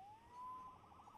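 Police siren in the video game Spider-Man Remastered, a single rising wail that settles into a steady warbling tone, fairly faint and brief.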